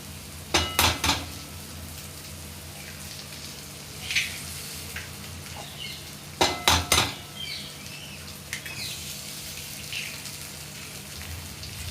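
Eggs cracked into a pan of sautéed onions for egg bhurji, with two bursts of sharp shell taps and clinks around the start and middle, then soft stirring scrapes over a low sizzle, no voices.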